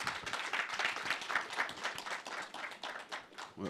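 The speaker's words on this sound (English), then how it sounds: "So please put your hands together for Kofi Abuchi again." An audience at a broadcasting media industry forum claps for Kofi Abuchi, a dense, steady patter of many hands lasting the whole stretch at moderate loudness, with no one speaking over it.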